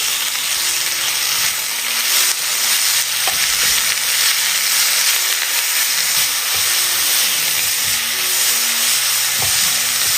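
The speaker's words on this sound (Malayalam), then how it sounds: "ഇതിലേക്ക് ചേർത്ത് കൊടുക്കുന്നത് ഒരു വലിയ ക്യാരറ്റ് ഇതുപോലെ ഗ്രേറ്റ് ചെയ്തെടുത്തതാണ് ഒന്ന് ഇളക്കി കൊടുക്കാം" Grated carrot and onions frying in a pan as they are stirred, with a steady dense sizzle and hiss throughout and occasional soft scraping of the spoon, close and loud with no talking.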